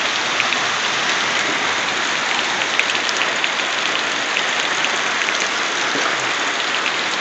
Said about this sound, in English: my god, this is too much rain!